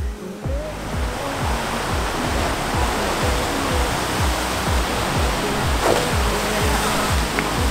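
Continuous rushing, churning water from an artificial surf wave pool on a holiday in Ibiza, loud and steady throughout with no talking.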